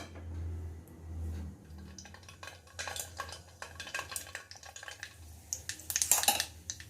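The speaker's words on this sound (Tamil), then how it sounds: "கடுகு போட்டாச்சு, அது பொரியட்டும்." Mustard seeds popping and spluttering in hot oil for a tempering, with scattered crackles building into a denser burst of sharp pops near the end, over a low background hum.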